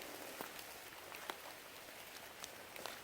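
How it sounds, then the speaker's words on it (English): Steady rain falling on a wet, swampy forest trail in Uwharrie National Forest in winter, a dense even hiss with scattered louder drops tapping nearby, no voices. "it's been raining for what, 4 days?"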